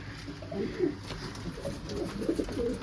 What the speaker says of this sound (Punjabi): ਕਬੂਤਰੀ ਬੈਠੀ ਅੰਡਿਆਂ ਤੇ